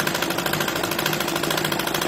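A sewing machine stitching a one-inch seam on a salwar, a fast, even mechanical chatter running loud and close without pause.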